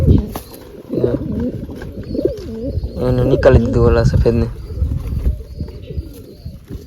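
Pigeons coo loudly and repeatedly at close range while trying to take grain, with someone speaking over them.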